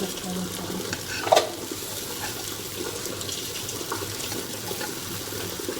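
Okra pieces frying in oil in a pan give a steady low sizzle with one sharp clink from a utensil near the start, close and moderate in level, with no speech.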